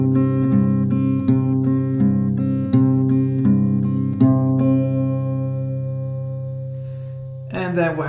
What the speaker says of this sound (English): You play that again for 4 rounds, a little bit slower than standard tempo, will sound like this.